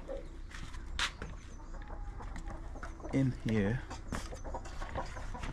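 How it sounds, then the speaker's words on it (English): Hens and a rooster in a backyard coop give low, throaty clucks, with a short burst of louder clucking partway through. Someone talks close by over the birds. "There's a rooster on there, as you can see."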